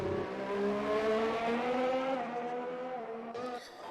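An F1 race car in a video game fires down the start-finish straight in Bahrain qualifying, its high engine whine climbing steadily and loud, then briefly dropping near the end.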